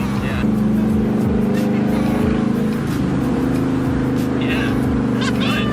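A car engine accelerates at about half throttle, a steady rising drone with repeated shift-like sweeps. Voices talk over it throughout and there is some cabin noise.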